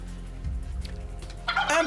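A short turkey gobble sound effect plays as a game-show cue, rising into a bright burst of rapid gobbling at the end, fairly loud over a faint background.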